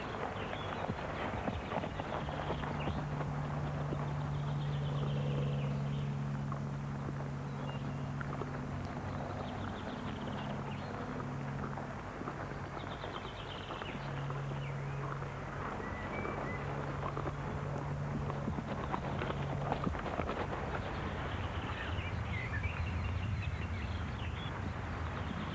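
A young horse trotting during training, its hooves clip-clopping in a quiet, even rhythm at a moderate distance over a faint hum and a low droning tone, with no voices.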